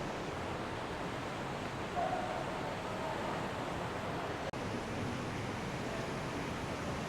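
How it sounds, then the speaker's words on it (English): A steady, dense roar of rushing water fills the scene continuously, broad and unbroken, with one brief sharp click near the end. "You can hear a waterfall. Sounds like it's quite a ferocious one."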